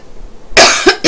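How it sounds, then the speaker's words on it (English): Several sharp coughs from one person, loud and close, a strong burst followed by two shorter ones in quick succession, with no talking. "excuse my coughs"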